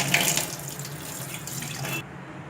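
Tap water runs over a copper vessel being rinsed in a sink, a loud close steady splashing stream that eases slightly toward the end.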